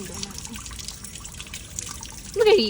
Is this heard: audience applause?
no